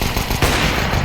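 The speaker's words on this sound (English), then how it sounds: "he's gonna try to wallbang through the wall" Rapid, dense automatic gunfire in a tactical shooter match as a player fires through a wall, with loud crackling bursts and a sharper crack near the middle.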